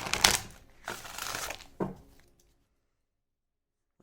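Tarot cards are shuffled by hand in a few quick riffling bursts, close and crisp, followed by silence.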